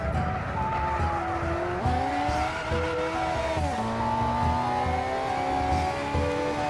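A Lotus Elise racing in Gran Turismo 6, its engine note climbing and shifting through gears at close range, with tire squeal mixed in and no voices.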